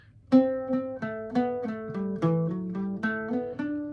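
An Irish bouzouki plays a short melodic line from Cliffs of Moher, each note picked clearly with ringing drone strings, alone without voices.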